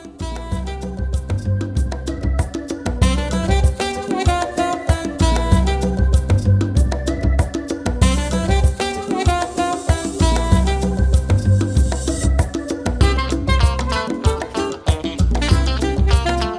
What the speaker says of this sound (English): there are a lot of people singing different songs because there are, I think, about 5 video okay houses here